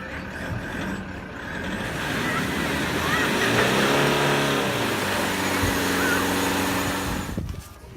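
A car engine starts to pull away and accelerates outdoors, a steady rising rumble with shifting harmonics that builds and holds for several seconds, with voices nearby.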